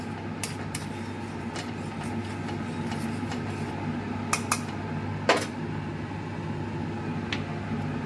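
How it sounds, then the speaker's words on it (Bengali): Spices being stirred into thick dal in a cooking pot, sharp metallic clinks and scrapes of a spoon against the pot over a steady low kitchen hum, with no talking. "একটু আগে ভালো করে মশলাগুলো মিশিয়ে নিই ডালের সাথে"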